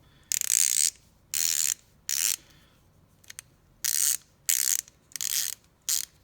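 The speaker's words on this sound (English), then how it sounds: "typical Matco ratchet" Matco 40th anniversary locking flex-head ratchet with a matte black finish, clicking in several short, crisp bursts of fast ratcheting separated by pauses, close up and alone.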